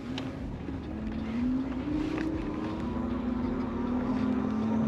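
A Yadea Trooper 01 moped-style electric bike climbs a hill on full throttle in its highest speed mode, giving a continuous motor whine that rises in pitch over wind noise, moderately loud and close, no voices.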